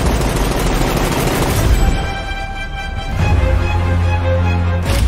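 Heavy gunfire from a John Wick movie trailer: loud sustained bursts of automatic fire and booming shots, dense and close, with a brief lull before the firing resumes.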